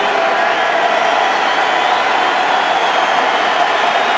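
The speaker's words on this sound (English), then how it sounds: "Crowd makes a little noise." Stadium crowd at a 2011 NFL preseason game between the Broncos and Cardinals, a steady, even roar of many distant voices filling the whole stretch without clear peaks.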